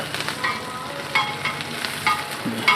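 Gentle sizzling of garlic and ginger frying in hot oil on a griddle for street-style veg fried rice, with light scraping and clinks of a utensil, close by and without speech.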